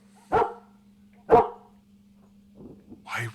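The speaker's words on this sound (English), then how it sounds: "Why was there a dog barking?" A dog in a video game barks twice, a second apart, clear and fairly loud over a steady low hum, followed by a softer yip and whine.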